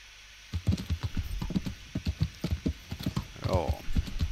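Horse hooves clop at a steady riding pace in the medieval game Kingdom Come: Deliverance, a close, even rhythm of thuds with a brief voiced call partway through.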